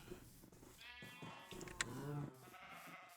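Sheep in a farming video game bleat several times in quick wavering cries, close and clear over soft background game sounds.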